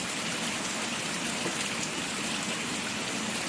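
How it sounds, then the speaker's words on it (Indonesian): Heavy afternoon rain during the rainy season heard from inside a wooden stilt house in a village: a dense, continuous roar of downpour on the roof and surroundings, steady and enveloping, with no one talking. "Tuh, ini hujannya ini cukup lebat sekali."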